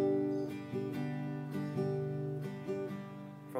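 An acoustic guitar plays the strumming pattern for a song, a rhythmic mix of downstrokes and upstrokes ringing clearly and close with no talking.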